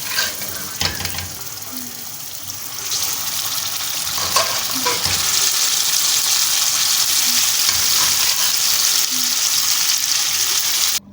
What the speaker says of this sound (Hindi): गोश्त को हमने कढ़ाई में शिफ्ट कर दिया है और इसको डालने के बाद हमने तेज़ी से चम्मच चलाना है